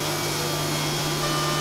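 A CNC machine milling a part gives a steady, dense whine with a constant low hum underneath, unbroken and fairly loud, with no speech.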